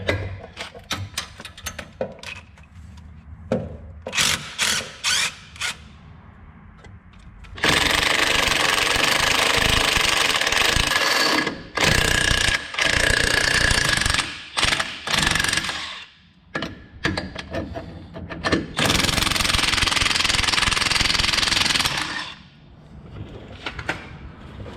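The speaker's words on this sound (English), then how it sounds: "drill our 3/8 hole behind here" Loud power drilling of a 3/8-inch hole behind a 2019 Ram 2500 truck wheel during leveling kit installation, two long sustained bursts broken by short clanks and handling noises, close up with a harsh, grinding mechanical tone.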